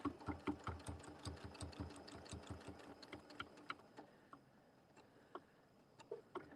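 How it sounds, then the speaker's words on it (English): A sewing machine edge stitches quilting fabric for a holiday wreath, its needle chattering in quick, steady bursts up close, then slowing to sparse single clicks as the stitching eases off. "So I'm just basically edge stitching this on."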